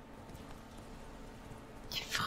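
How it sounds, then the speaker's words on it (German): Horse hooves galloping in The Witcher 3, a steady, soft clip-clop rhythm under a low background bed, with a brighter burst of noise near the end. "Da können wir auch mal galoppieren."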